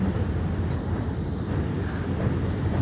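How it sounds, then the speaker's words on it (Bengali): A train passes the Ambari level crossing in heavy rain, making a continuous low rumble and wash of noise that holds steady throughout, heard close with no voices. "আমবাড়ি লেভেল ক্রসিং ট্রেন যাচ্ছে বৃষ্টি হচ্ছে খুব"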